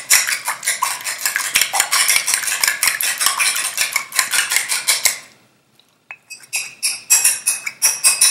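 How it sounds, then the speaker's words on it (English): An egg is whisked in a bowl with quick, rapid metallic clicks and taps at a steady rhythm, stopping briefly near the end before a few more brisk strokes resume, close and clear. "from out of those 2 eggs, I'm going to whisk 1."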